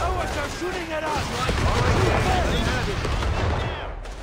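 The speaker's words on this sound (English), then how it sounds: "Oh, they're shooting at us." Gunfire from Company of Heroes 3 in an airborne assault on an airfield, a dense stream of rapid shots and distant booms rolling on throughout, with game voices and radio chatter layered over the battle.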